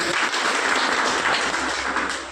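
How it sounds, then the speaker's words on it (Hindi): Dense applause from a seminar audience in Bathinda fills the whole stretch at a steady, loud level, fading slightly toward the end. "जोरदार तालियां"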